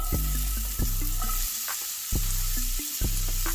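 Onions hitting a hot pan coated with avocado oil crackle into a bright, steady sizzle, with repeated low knocks and scrapes of a utensil close by and no speech.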